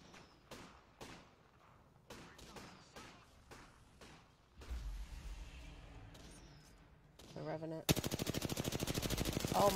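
Video game gunfire in a multiplayer shooter: scattered single shots and short bursts build to a loud, rapid sustained stream of automatic fire, close and dominant, with no voice over it.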